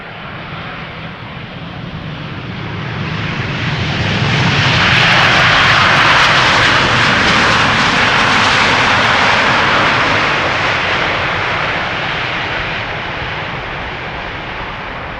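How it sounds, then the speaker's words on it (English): A Finnair Airbus A350 jet airliner lands at Schiphol's Polderbaan runway, its broad engine roar swelling loud as it passes close, then slowly easing off while the steady rushing noise lingers. "A350. That's the Finnair."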